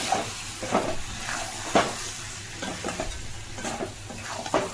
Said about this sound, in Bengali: আমি এইভাবে কষা কষাই রাখবো, তাও আর একটু কষাবো তরকারিটাকে।